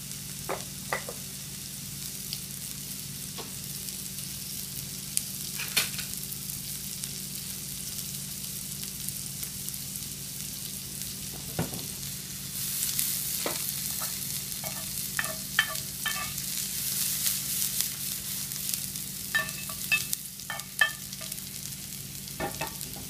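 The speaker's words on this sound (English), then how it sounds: "So now I'm going to finish them with a little bit of butter" Blewit mushrooms sauté in butter in a pan, giving a soft continuous sizzle broken by scattered stirring clicks and little crackling bursts, louder toward the end.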